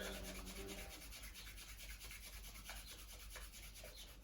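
Soft, steady rubbing of the feet during a home gym exercise for the lower body, a faint continuous friction sound heard up close with no voices.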